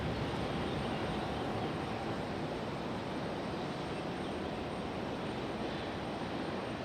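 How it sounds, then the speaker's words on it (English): An airliner landing on runway 23 left at Raleigh-Durham International Airport in stormy weather, a distant, steady broadband roar that stays even and fairly faint throughout. "Sound like we had a landing back here on 23 left"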